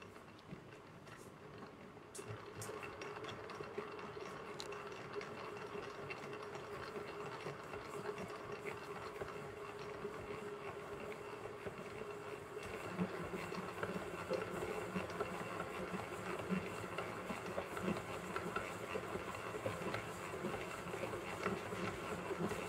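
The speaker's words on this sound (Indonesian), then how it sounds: "Kemudian kita mixer. Speed dulu." An electric stand mixer kneads mocha nougat bread dough, a continuous droning motor whir with a steady buzzing hum that grows slightly heavier and rougher about halfway through.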